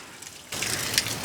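Water gushes and splashes from the side of a tank as it is being filled, a sudden steady spill starting partway through, close by.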